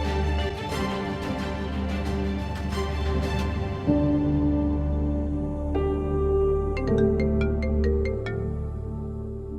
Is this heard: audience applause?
no